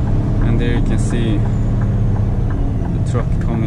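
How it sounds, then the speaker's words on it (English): A truck approaches with a steady low engine rumble that holds throughout, close and fairly loud beneath someone talking over it, from a cab setting with a Scania G440 truck and trailer. "the truck coming now."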